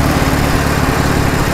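An old Soviet Ural motorcycle runs on the road with its exhaust blaring, a loud, steady, rough low rumble recorded up close with constant wind roar and no voices.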